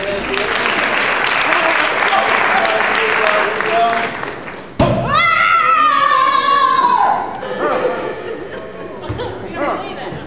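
A crowd at a Maker Faire applauds loudly with steady clapping, mixed with chatter and a few voices, then the clapping fades as talk continues.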